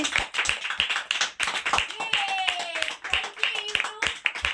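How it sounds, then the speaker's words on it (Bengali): People clap hands at a cake cutting, a brisk, uneven round of close claps running throughout while voices cheer and talk over it. "হাততালি হাততালি হাততালি"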